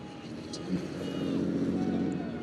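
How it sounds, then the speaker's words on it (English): A diesel pickup truck rolling coal drives past during an outdoor Alberta independence rally in Sylvan Lake, its engine a steady low rumble that swells slightly as it goes by. "Another coal roller going down there."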